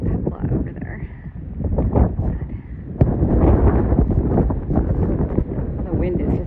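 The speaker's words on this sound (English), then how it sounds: "Oh, the wind is just crazy here." Strong desert wind roars steadily across the microphone near a wind farm along the Pacific Crest Trail, loud and gusty throughout, with a voice speaking over it.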